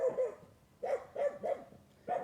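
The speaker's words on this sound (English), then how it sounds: "I think my dogs are chasing a coyote." Dogs chasing a coyote bark outdoors in short, sharp bursts, a single bark at first and then a quick run of three or four, moderately distant.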